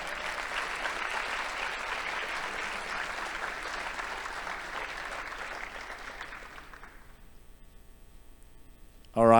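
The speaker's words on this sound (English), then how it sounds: "Big round of applause." An audience at a closing keynote of an HCI conference applauds for a steady stretch, the clapping broad and even before thinning and fading toward the end, leaving a faint hum and a sudden sharp sound right at the close.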